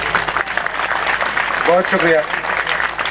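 An audience claps steadily at a live event for a Pashto song performance. The sustained applause sits under a voice, which briefly speaks over it.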